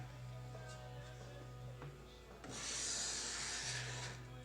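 A card scraper shaves wood on a Greene & Greene-style hall table, giving short, soft scraping strokes and then a longer, brighter rasp over a low steady hum.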